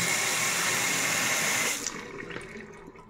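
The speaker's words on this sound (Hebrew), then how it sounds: "לך תבדוק אם יש מים בברז." Water gushes loudly and steadily from a household tap for nearly two seconds, then cuts off, leaving faint drips and quieter residual trickling.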